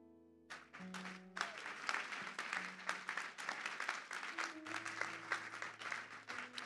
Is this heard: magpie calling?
no